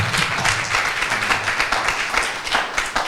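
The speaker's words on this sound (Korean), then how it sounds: "우리 이우호 목사님한테 감사 박수를 드려야 될 것 같습니다" Audience applause at a school opening ceremony and thanksgiving service, a brief burst of many hands clapping close and steady without speech.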